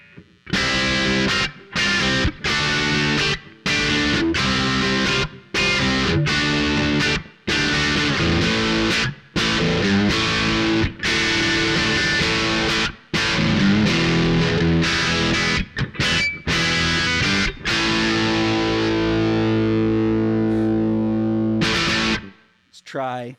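Heavily distorted electric guitar through a Sansamp GT2-clone amp-sim pedal on its Tweed setting, drive fully up, plays chugging chords and short bursts with brief gaps between them, loud and close, ending on a sustained ringing chord.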